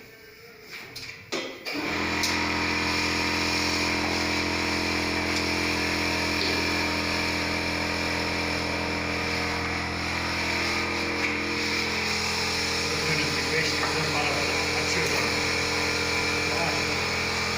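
A Torkay power sanding machine starts up after a brief clatter and runs continuously with a loud, steady buzzing drone that hardly changes throughout.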